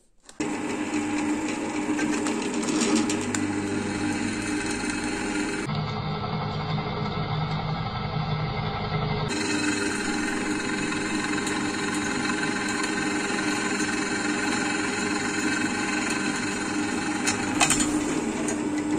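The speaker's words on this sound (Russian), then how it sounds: "просверлил само отверстие" A drill fitted with a freshly sharpened bit bores a hole, giving a steady, continuous whirring drone close up that shifts in tone partway through and runs alone without talk.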